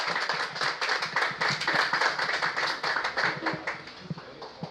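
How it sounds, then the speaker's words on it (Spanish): Applause from the congregation after a testimony at a Christian fellowship gathering, rapid close-miked clapping that holds steady, then thins out toward the end. "Y ese aplauso siempre va para Dios."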